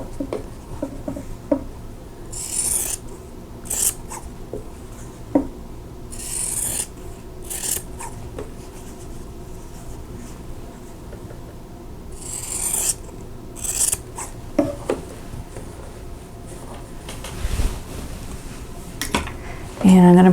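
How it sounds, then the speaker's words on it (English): Scissors trim the corner off a quilt block's fabric, leaving a quarter-inch seam allowance, with several short, crisp snips and rasps spread through a quiet room. "now I'm going to trim the corner off, leaving a 1/4 inch seam allowance"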